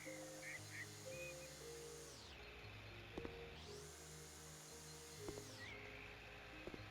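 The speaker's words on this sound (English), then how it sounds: "I am mowing the grass with a weed eater." String trimmer cutting grass in the House Flipper video game, a droning motor whine that rises and falls in long sweeps, steady and fairly loud over a low background hum, with a few small clicks.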